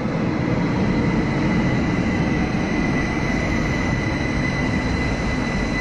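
An underground Algiers metro train runs with a continuous, loud rumble and roar that holds steady from start to finish, with no talking.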